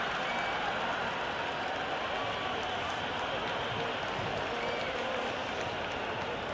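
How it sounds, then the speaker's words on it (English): Stadium crowd in the cricket video game Cricket 26 during an India versus Pakistan match, a broad, steady roar of cheering and clapping that stays loud and unbroken throughout, heard at a distance like a packed ground. "Will you listen to that crowd? They are loving this."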